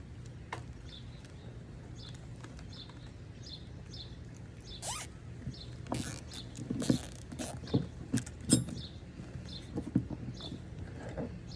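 A zip tie is ratcheted tight around wiring on a dock well fixture near a drum connector, producing several quick, close clicking bursts in the second half over a faint background hum.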